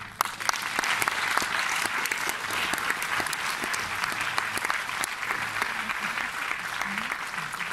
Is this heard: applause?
yes